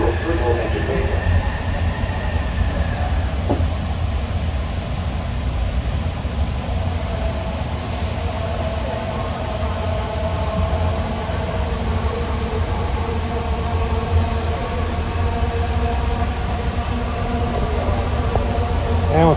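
A JFK AirTrain automated rail car hums and rumbles steadily as it rolls into an airport terminal station, with a high electric whine and a brief screech of brakes; an announcement voice speaks over it.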